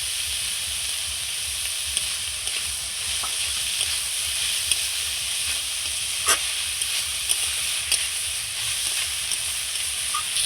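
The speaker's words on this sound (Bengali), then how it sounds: "পেঁয়াজ চাল আর মোচা একসঙ্গে খুব সুন্দর করে আমি আবারও ভেজে নেব" Onion, rice and chopped banana flower fry together in a pan with a steady close sizzle and hiss, broken by a few soft scraping stirs, with no voices.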